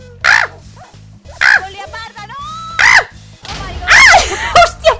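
A dog in a video game barks in several loud, sharp bursts, spaced irregularly over a steady electronic game soundtrack.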